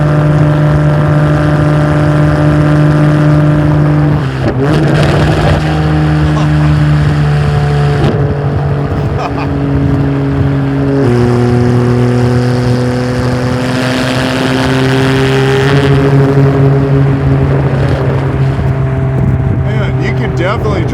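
A custom Ferrari 612 with a V12 engine drones loudly and steadily up close, its pitch shifting through gear changes and revs, with people talking over the engine noise.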